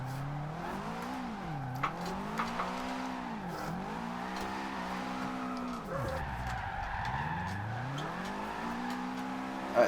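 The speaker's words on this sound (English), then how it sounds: "let's get drifting around this car park" Subaru WRX STI drifting around a car park in the Forza Horizon 2 racing game, its engine droning and swooping up and down in pitch with steady tyre squeal throughout, no talk.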